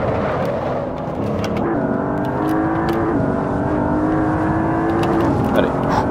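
An Audi RS6 engine in the racing game Assetto Corsa VR drones steadily, holding a sustained whirring note that climbs gradually, with brief clicks scattered over the top.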